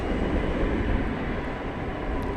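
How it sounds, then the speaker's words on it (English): American Airlines Airbus A320 arriving at Dallas/Fort Worth airport, a steady broadband jet roar that holds loud and even throughout with no breaks and no voices. "Here comes flight 1299 arriving from Austin, Texas. It's an American Airlines Airbus A320."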